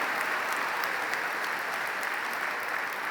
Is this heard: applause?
yes